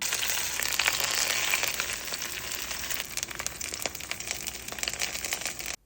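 Paturi wrapped in gourd leaves fries in a little oil in a pan, a continuous close crackling sizzle that stays loud and even throughout.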